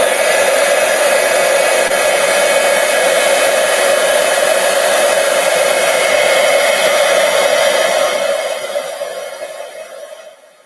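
A heat tool melts copper embossing powder on a cardmaking piece, its fan blowing a loud, even whoosh for about eight seconds before it winds down and stops.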